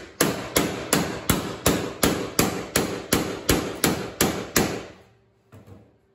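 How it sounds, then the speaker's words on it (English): A hammer strikes a rigid metal cap by hand in a steady run of about a dozen sharp, evenly spaced blows, close and loud, followed by a quieter tap. "I'm trying to bend, trying to hold this up and hammer it at the same time."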